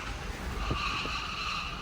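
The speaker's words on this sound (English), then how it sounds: "It was indeed no joke for such a big truck to go so fast." Ford F-150 Lightning electric truck accelerating hard at an auto show, tires squealing in a sustained high screech over a steady rush of road and wind noise, loud and close.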